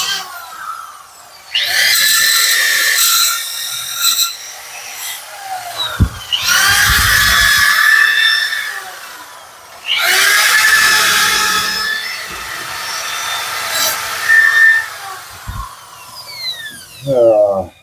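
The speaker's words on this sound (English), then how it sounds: "Have to get the scraper out too and scrape some of this stuff." Metal scraper working over the battery tray of an EzGo Marathon golf cart, harsh bursts of grinding scrape in several long strokes with pauses between, close and loud, ending in a few short scratches.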